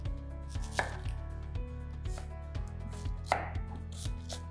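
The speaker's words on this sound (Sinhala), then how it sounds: "සුද්ධ කරලා හොදලා ගත්ත ලුණු ගෙඩියක් ඒකත් අපි සාමාන්‍යයෙන් පොඩියට කපා ගන්නවා." A knife chops an onion on a board for a feta cheese salad, giving a steady series of close, sharp thuds at an even rhythm, alone without any talking.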